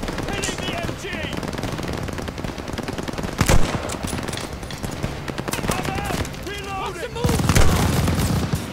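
Sustained machine gun fire in the Call of Duty Vanguard campaign, long rattling bursts with louder heavy impacts and booms breaking through, while game voices shout over the battle.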